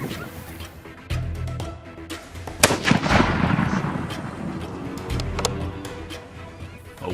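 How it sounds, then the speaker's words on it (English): Rifle gunfire rings out during a wild hog hunt on an Arizona farm, with several sharp cracks and booms in quick succession at moderate distance, layered over rustling and background noise. "The sound of gunfire mingled with the squeals of the hogs."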